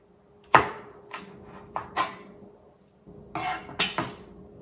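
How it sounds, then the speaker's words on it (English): An onion is minced with a knife on a board in a home kitchen, giving a handful of sharp, separate chops and clicks with quiet gaps between them. "I am gonna go ahead and mince this onion."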